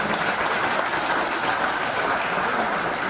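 Loud, continuous clapping from an audience, a dense even wash of many hands applauding close by without pause.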